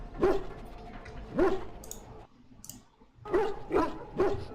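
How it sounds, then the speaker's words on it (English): Mabari war dog from Dragon Age: Origins giving a few short whimpering, yelping cries in separate bursts, moderately close with quiet gaps between them and no speech. "The Mabari growls weakly but does not challenge you after you're done."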